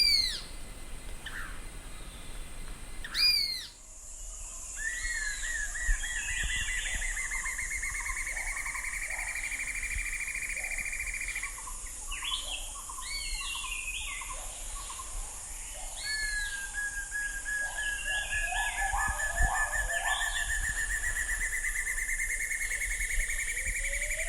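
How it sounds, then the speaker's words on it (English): Black-and-yellow broadbill calling in Kaeng Krachan forest, Thailand: repeated rising, trilling whistled phrases over a dense, constant backdrop of insect buzz and other birdsong, with a few sharp near notes early on. "What a cool sound for such a great little bird"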